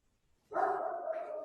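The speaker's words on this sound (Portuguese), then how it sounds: "Desculpa que o cachorro está latindo aqui." A dog gives one loud, close, drawn-out bark that breaks an otherwise quiet moment, with no voices over it.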